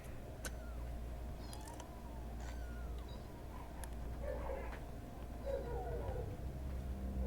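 Faint cat meows, a few short wavering calls in the second half, sit under steady background game noise and a low hum during a multiplayer video game session.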